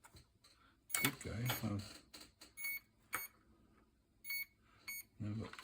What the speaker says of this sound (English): I've got two beeping at me.